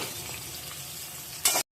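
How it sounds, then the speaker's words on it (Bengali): Onions fry in oil with whole spices: ginger, cinnamon, cardamom, green chilli and bay leaf. A soft, even sizzle is briefly topped near the end by a louder scraping stir, then cuts off. "দেখুন পেঁয়াজটা ভাজা হচ্ছে"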